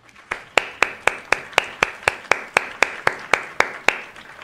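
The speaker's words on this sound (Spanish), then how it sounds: "Aplausos." A single person's hands clapping about fifteen times in a quick, regular rhythm, close and fairly loud, with a little room echo after each clap.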